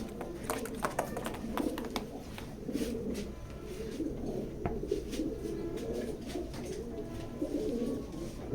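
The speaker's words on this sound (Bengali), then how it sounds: "বিগ সাইজের কবুতর" Large grizzle pigeons coo softly and repeatedly inside a loft, low burbling calls recurring throughout at moderate distance, with faint background chatter.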